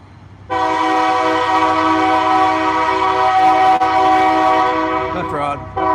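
A short train passing near a riverbank fishing spot blows a loud sustained horn, held for several seconds and then cut off, followed by a few brief warbling sounds.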